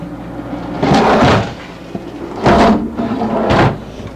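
Three drawers in a 1997 Safari Trek motorhome slide open and shut in turn, each a sliding rumble with a soft thud, close by with quiet gaps between.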